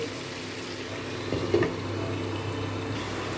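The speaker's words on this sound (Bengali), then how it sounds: "এখন এর মধ্যে জল দেবো" Water poured into a pan of fried-down spice paste for a potato and paneer curry, a brief splash and sizzle rising over steady background noise.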